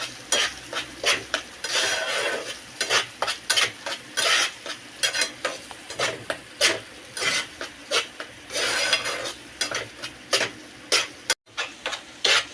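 A spoon works ground onion-tomato masala gravy for a fresh cashew curry in a pan, with loud, close, rhythmic scraping strokes repeating over a steady sizzle of frying and no voices.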